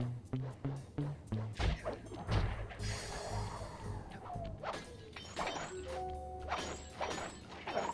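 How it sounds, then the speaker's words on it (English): Glass shattering effect from the video game Sly 2, a sharp crash with bright scattering debris amid game music, thumps and whooshes, reused from Sly 1. "They kept that glass breaking sound from Sly 1."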